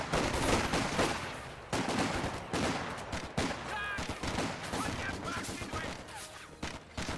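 Dense gunfire in a tabletop-style wargame battle, rapid overlapping shots and bursts with some heavy thuds running loud and continuous throughout, voices faintly mixed in under the shooting.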